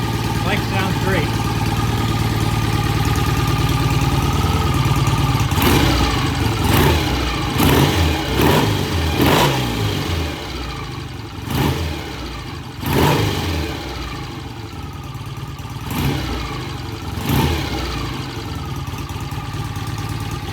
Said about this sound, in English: Bike sounds great.